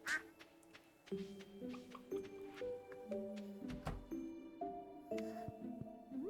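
Duck quacks from the Stardew Valley farming game come in a few short bursts over a soft, stepping melody of game music, with no talking.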